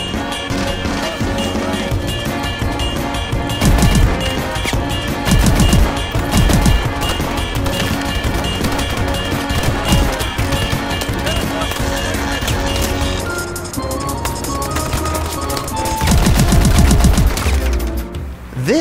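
Weapon sounds from Call of Duty: Advanced Warfare, a loud, continuous mix of rapid automatic gunfire bursts and punchy shots layered over game music, with occasional talk underneath.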